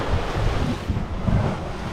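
Wind buffets the microphone and waves wash against the hull of a sailing yacht under full sail in about 15 knots of breeze on the way back from Moreton Bay, a steady rushing roar with low gusty thumps.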